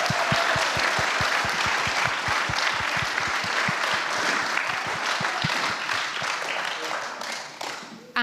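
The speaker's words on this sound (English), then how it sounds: "So, a massive round of applause." Dense, sustained audience applause fills a music showcase hall, steady and loud throughout with a regular low thump running underneath, tapering slightly near the end.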